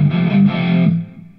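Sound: electric violin through amp distortion effect pedal

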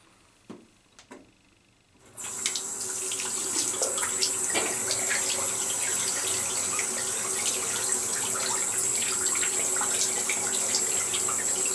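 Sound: shaving brush rinsed under running tap water

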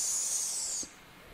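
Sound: voice imitating snake hiss, letter S sound

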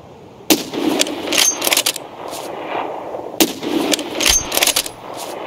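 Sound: gunshots in video game Escape from Tarkov

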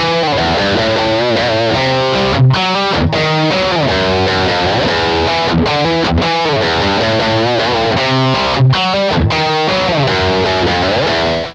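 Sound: distorted guitar through Roland GR55 guitar synthesizer

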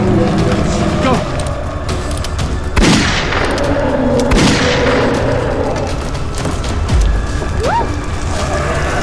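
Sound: gunshot

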